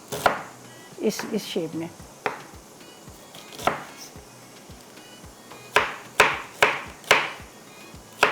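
A knife chops onions on a board in sharp, close thuds, first in a quick cluster and later in steady single strokes, with a short spoken remark early on.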